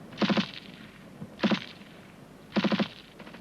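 Three quick bursts of rifle fire from a section's covering group in a 1971 infantry fire-and-maneuver drill, each a tight cluster of three or four cracks about a second apart, fairly close, with no voices over them.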